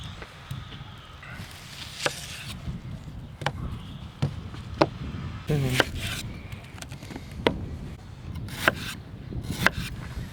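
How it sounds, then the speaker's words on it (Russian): A knife finely chops onion rapidly against a board in steady, close repeated strikes, with light kitchen noise in the background. "Нам нужно мелко-мелко нарезать лук"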